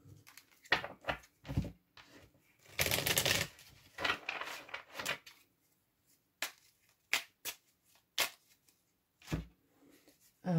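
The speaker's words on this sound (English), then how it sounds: "let's have a good old shuffle" Quiet, irregular bursts of tarot card shuffling and riffling, with a longer burst in the middle and scattered soft taps and flicks around it, close by.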